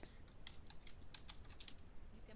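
Soft, quick keyboard taps scattered over a steady background hiss, quiet and close, with no voices.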